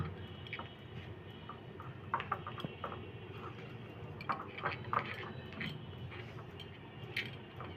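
A spatula mixes sifted flour and other dry cake ingredients for a mango cake in a bowl, making soft scraping and light ticking taps against the bowl, quiet and steady over a low room hum.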